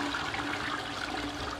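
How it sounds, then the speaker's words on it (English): A toilet flushes with a steady rushing, gurgling swirl of water, continuous and moderately close, with no voices. "That's a lot of flushing toilets."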